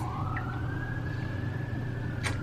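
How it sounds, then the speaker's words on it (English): Emergency vehicle siren on a Toronto street, a single rising wail heard at a distance over steady low traffic rumble, continuous through the moment with no voices. "that's Toronto for you with the sirens"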